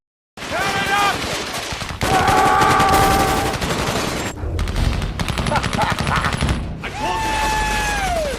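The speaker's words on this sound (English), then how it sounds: "they then opened fire on the police station indiscriminately" Men storm a police station in a film scene and fire indiscriminately, producing loud sustained bursts of automatic gunfire and rapid shots that continue for several seconds. A brief gap interrupts the barrage, with mechanical clatter, and high ringing tones sound over it.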